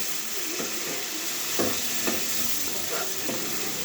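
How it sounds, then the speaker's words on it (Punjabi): Chickpeas sizzling in a pan with fried onions for a tadka, a steady loud frying hiss broken by several scraping strokes of a spoon stirring the mix at an unhurried pace. "ਹੁਣ ਅਸੀਂ ਆਪਣੇ ਚਨੇ ਪਾ ਲਾਂਗੇ"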